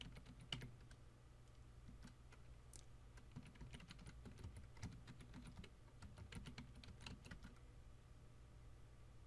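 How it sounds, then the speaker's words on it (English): Keys clatter steadily on a computer keyboard while a FreeIPA client is configured, a quiet run of quick uneven taps lasting several seconds with no talking. "I'm going to type in admin for my user"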